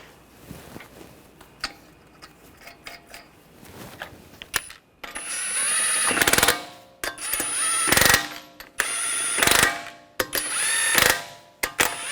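Lug nuts being spun onto a Honda Pilot V6 wheel hub and snugged down, giving loud bursts of metallic ratcheting in quick clusters after a quieter stretch of faint clicks and taps, close by with no talk.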